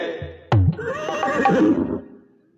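A horse neighs loudly and rears up, a sharp close whinny with shaky trailing tones lasting over a second, preceded by a low thud and fading into quiet.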